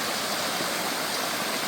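Water flowing and rushing steadily over feet and ground, a continuous broadband stream-like wash, close and loud, with no voices.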